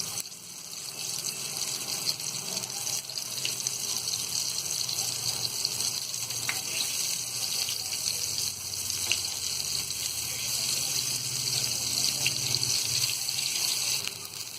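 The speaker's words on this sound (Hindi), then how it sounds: "तो हमने यहाँ 3 कबाब डाल दिए हैं और गैस को हम यहाँ हल्का मीडियम पे ही रखेंगे" Three black chickpea shami kebabs shallow-fry in a pan over low-medium heat, giving a steady, even sizzle that runs unbroken throughout with no voices.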